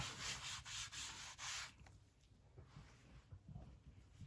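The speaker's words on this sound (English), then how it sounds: "I'm going to take that same baby wipe, and I'm just going to clean the ink off this block. And I'm going to clean the ink off my mat." A baby wipe rubs ink off a stamping block and mat, brisk close scrubbing strokes for under two seconds, then quieter faint rubbing.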